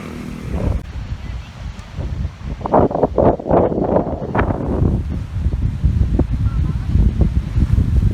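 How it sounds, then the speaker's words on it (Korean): Strong wind buffets the microphone in heavy gusts, roaring and rumbling up close for several seconds, with a voice briefly heard beneath it, in the Everglades, Florida. "근데 바람이 세다"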